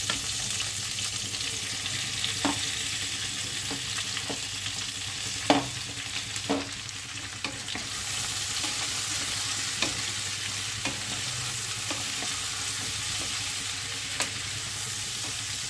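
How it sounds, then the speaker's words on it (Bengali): Cauliflower and spring onion vegetables sizzling steadily in hot oil in a pan with whole spices, a constant hissing fry broken by occasional light stirring taps and scrapes. "খুব ভালোভাবে সব সবজিগুলো তেলে আবার ভেজে নিচ্ছি।"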